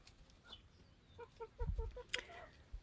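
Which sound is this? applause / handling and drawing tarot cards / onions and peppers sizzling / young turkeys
young turkeys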